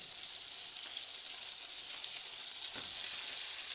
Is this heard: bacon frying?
yes